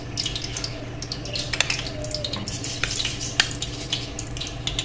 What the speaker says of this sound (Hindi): चलें जी, ऑयल हमारा गर्म हो गया। अब बैटर को आप चम्मच से भी डाल सकते हैं और हाथों से भी